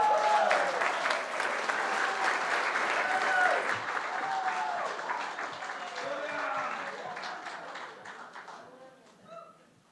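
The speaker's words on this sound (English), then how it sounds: "that was a great round of applause" Sustained applause from a congregation at a Sunday church service, loud and dense at first with murmured voices mixed in, then thinning and tapering off toward the end.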